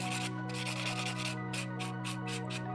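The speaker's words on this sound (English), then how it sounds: "Right, buffing block." Buffing block rubbed in quick back-and-forth strokes across an acrylic nail, a close, steady scratchy rasp with brief pauses between passes, with no talking.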